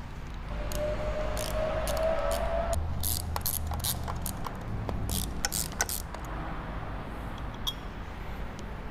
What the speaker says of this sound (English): 10mm socket to remove these three bolts